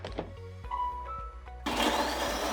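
A Wonderchef food processor fitted with a multifunction blade chopping onions, ginger and garlic, starting with a few short pulses and knocks, then surging into a loud steady whirring spin.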